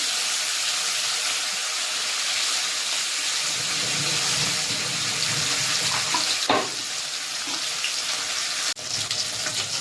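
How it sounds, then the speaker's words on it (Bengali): Fish rubbed with salt and turmeric sizzles steadily in hot oil in a home kitchen, a dense continuous frying hiss with a couple of sharp pops and clatters near the end, close and loud, without talk. "এবার নুন হলুদ মাখিয়ে নেওয়া মাছগুলো ভেজে দেবো।"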